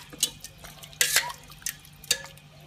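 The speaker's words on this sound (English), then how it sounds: "You can mix it properly." A spatula stirs ridge gourd and coconut vegetables in a pan, giving a few quiet scraping clatters at irregular intervals, with no talking.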